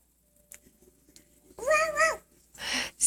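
A young child imitates a cat's meow with a drawn-out, wavering cry followed by a second shorter one, close and clear after a quiet stretch.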